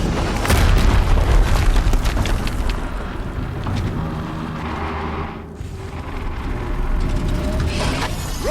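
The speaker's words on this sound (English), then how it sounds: "Another explosion." Loud, booming explosion in the Horizon Zero Dawn video game, a sustained rumbling blast with debris and mechanical crashes that fades briefly midway and then swells again.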